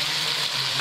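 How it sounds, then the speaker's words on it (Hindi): Spice masala with tomatoes and a little water frying in a pan, a brief, dense and steady sizzle heard close up with no talk. "और मसाले को अच्छी तरह भून लेंगे।"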